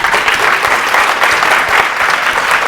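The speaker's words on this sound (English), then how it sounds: "and just a round of applause" Sustained, loud applause from an audience at a real estate industry Q&A session, dense and steady clapping throughout with no talk over it.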